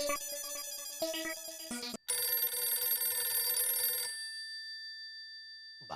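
A telephone rings with a bright electronic ringtone, a melodic burst followed by a sustained high chiming ring that fades out, close and loud with no talk over it.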